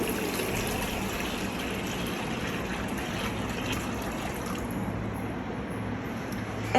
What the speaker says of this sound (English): now I'm going to pour this water in here.